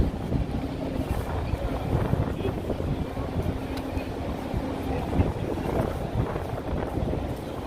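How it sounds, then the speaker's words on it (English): Steady wind buffeting a microphone outdoors in New York City, a continuous rough rumble that stays loud throughout with slight gusting variations. "It's a little windy here, but it's pleasant."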